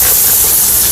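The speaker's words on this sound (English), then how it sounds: "spray your product" A loud, close hissing spray of cleaning product onto carpet blasts steadily for under a second, bright and airy with no pauses.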